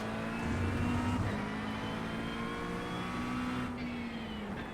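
A race car engine from iRacing drones steadily with a sustained, slowly shifting pitch as it runs close by, loud and alone with no talk over it.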